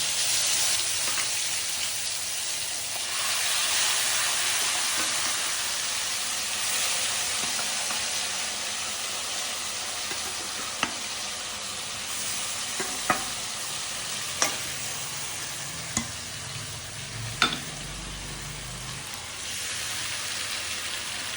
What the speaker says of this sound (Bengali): তো মাছগুলো কড়াইতে দিয়ে দেবো তো দেখো কালো জিরে ফোড়ন তো দিয়ে দিয়েছি